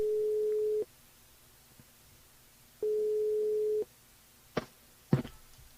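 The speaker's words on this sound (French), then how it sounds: "Allez, on appelle Raïssa." Ringback tone of an outgoing telephone call placed during a live radio show, two steady one-second tones separated by a pause, clear and isolated, followed by a couple of faint clicks as the line connects.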